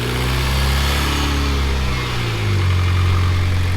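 A Mitsubishi Lancer Evolution X's freshly rebuilt engine idles steadily nearby, a low rumbling drone that rises slightly in pitch partway through, with no talking.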